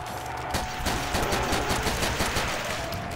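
Dragunov sniper rifle fire in COD: World at War custom zombies with a realism mod, heard as a dense run of loud gunshot bursts and battle noise over a sustained game tone, close and continuous throughout.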